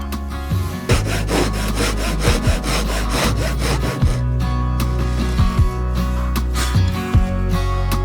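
A handsaw cuts through soft wood inside an old house being renovated, its rapid back-and-forth strokes rasping steadily and close by for the whole stretch, with brief pauses between bursts.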